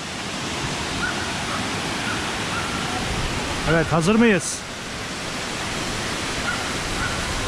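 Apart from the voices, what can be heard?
waterfall in Artvin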